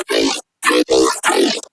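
Harmonic brostep growl bass synth patch built in Serum with a stereo layer, four short gritty bursts with choppy gaps, bright and dense, played alone.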